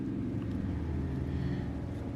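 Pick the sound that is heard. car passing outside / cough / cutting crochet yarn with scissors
car passing outside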